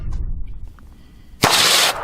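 A single sharp shot from a .22 revolver on an outdoor range, loud and close, with a short ringing decay after a quiet lead-in.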